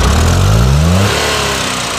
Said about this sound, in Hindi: गाड़ी हो गई स्टार्ट